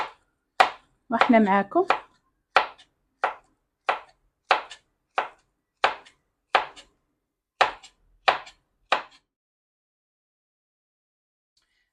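Knife chopping vegetables on a cutting board for a Moroccan tagine salad, a dozen or so crisp, evenly spaced single chops up close, with a brief burst of a woman's speech near the start before the cuts resume alone.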